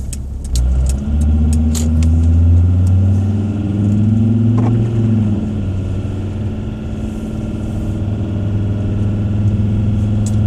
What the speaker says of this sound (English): Not what you call rapid, but then the engine's still cold and I don't really want to rag it, so it's about half throttle.